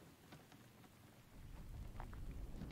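Steady hiss of rain falling in the survival game Infected, soft at first and then swelling into a fuller, heavier patter with a low rumble.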